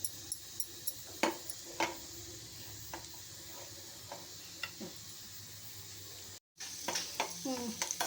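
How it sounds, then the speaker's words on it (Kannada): Raisins, cashews and almonds fry in ghee as a sweet tempering for sago payasam, giving a steady low sizzle with sharp scattered clicks and stirring taps, a brief dropout near the end, then quick ticks. "ದ್ರಾಕ್ಷಿ, ಗೋಡಂಬಿ, ಬಾದಾಮಿ ಎಲ್ಲನೂ ಹಾಕ್ಕೊತಾ ಇದ್ದೀನಿ ಸ್ವಲ್ಪ ಸ್ವೀಟ್ ಒಗ್ಗರಣೆಗೆ"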